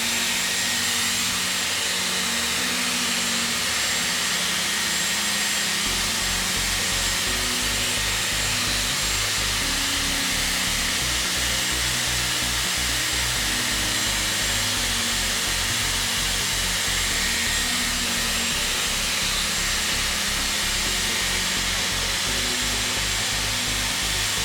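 A Dyson Airwrap Complete styler blows a steady, loud, whooshing stream of air while drying hair. The drone runs continuously with slight shifts in pitch and no talk over it.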